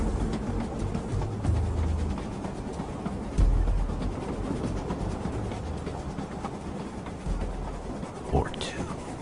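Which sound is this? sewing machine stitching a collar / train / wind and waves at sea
train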